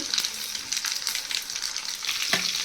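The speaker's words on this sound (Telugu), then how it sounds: "ఈ పోపు గింజలు వేసేద్దాము. మిరపకాయలు, జీలకర్ర" Tempering seeds, chillies and cumin crackle and sizzle in hot oil, a steady, close hiss that carries on without a break and with no one speaking.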